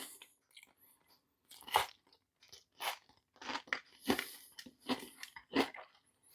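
Someone eats a homemade Rice Krispie treat off a regular spoon, giving a run of close, quiet crunchy bites and chewing with short pauses between them.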